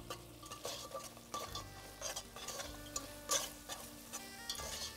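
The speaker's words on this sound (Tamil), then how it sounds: "அந்த அதிகமான தீயில் தான் நான் இப்போ மசாலாவும் போட்டிருக்கேன்." Masala frying on high flame in a pan, a soft steady sizzle with light scraping stirs and occasional utensil clinks, faint and continuous with a low background hum.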